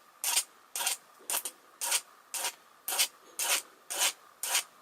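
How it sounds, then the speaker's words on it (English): Hand file rasping a screw on a model RC car, eight evenly spaced short strokes, close and crisp with quiet pauses between. "Maybe we can kiss it with a file a few times and make it happy."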